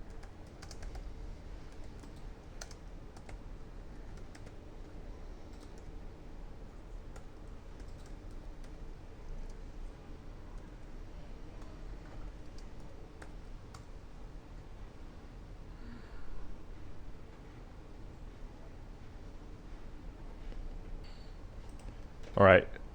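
Quiet, close keystrokes on a computer keyboard come in light bursts as an install command is typed, with a sharper click near the end.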